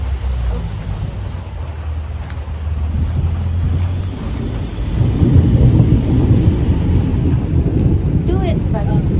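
Thunder from an outdoor thunderstorm rumbles low and heavy, building into a louder, rougher roll partway through, with a wash of rain-like noise underneath.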